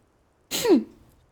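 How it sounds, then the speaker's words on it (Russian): A single short, soft sneeze breaks a quiet moment, a brief breathy burst with a falling voiced tail that fades quickly. "я чихаю тихонько"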